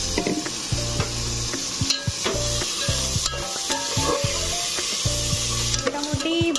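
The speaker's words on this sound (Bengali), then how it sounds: "একটু ভালো করে ভেজে নেব" Food frying in a pan while being stirred, with steady sizzling and frequent clanks and scrapes of a utensil against the pan; a voice speaks briefly over the cooking.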